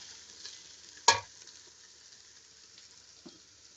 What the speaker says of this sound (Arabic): هسه راح أضيف التمن